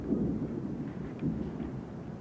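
Low rolling thunder from an approaching storm rumbles steadily, a distant continuous growl with a couple of swells and no voices.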